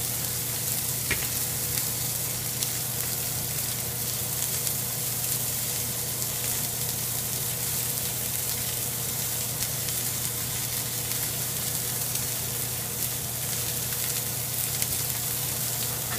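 A ribeye steak frying in butter after being flipped, with green chile in the pan, giving a loud, steady close-up sizzle and crackle that holds without pause.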